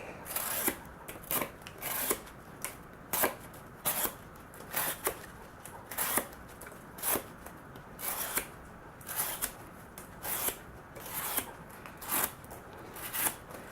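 A knife slicing through sticky, glue-laden cardboard, a run of about a dozen crisp, rasping cuts at a fairly even pace, close and quiet with no talk.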